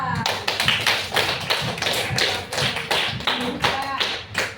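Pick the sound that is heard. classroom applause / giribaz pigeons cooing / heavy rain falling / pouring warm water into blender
classroom applause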